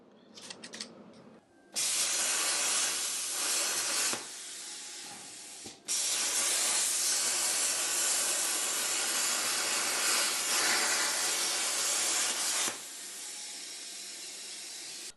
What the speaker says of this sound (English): I guess I need to do some tuning on the plasma cutter